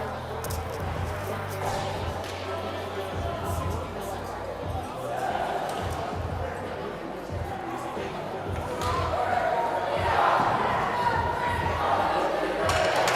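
Youth U15 AA hockey team shouting a loud group cheer in an arena, a burst of many voices rising over steady crowd chatter and rink noise, growing louder toward the end.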